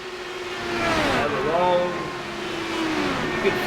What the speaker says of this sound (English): they are definitely speeding across there, over 200 miles an hour on this track